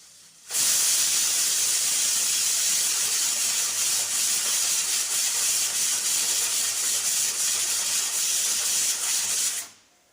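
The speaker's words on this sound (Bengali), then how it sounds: "এখন আমি পাঁচটা সিটি দিয়ে ছোলা আলুকে সেদ্ধ করে নেব" A pressure cooker boiling kabuli chickpeas and potatoes lets out a loud, steady hiss of steam that starts abruptly, holds evenly for about nine seconds, then cuts off, with no voices over it.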